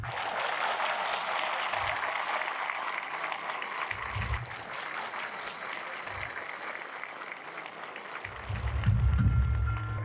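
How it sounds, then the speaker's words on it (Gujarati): A large audience at a gathering claps continuously with raised hands, a dense sustained applause that swells louder toward the end, with a few low thumps underneath. "હાથ ઊંચા કરીને તાળીઓનો ગડગડાટ"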